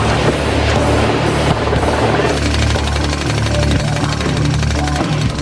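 Loud, continuous mechanical pounding and engine roar, a jackhammer breaking concrete from a construction column, heavy rapid hammering steady throughout with no talking.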